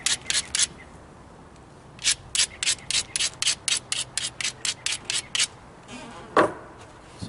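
A flint ridge point is ground with short rhythmic scraping strokes, a quick burst of three, a pause, then a long even run of a dozen or so close, crisp rasps, ending with a softer shuffle and a single knock.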